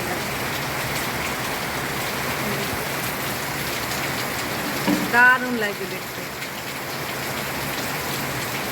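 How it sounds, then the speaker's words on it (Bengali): Heavy rain falls steadily with gusty storm wind around houses, trees and a temple road, a constant wash of noise; a person briefly speaks near the middle. "খুব ঝড় বৃষ্টি হচ্ছে, মানে সঙ্গে ঝড়ই"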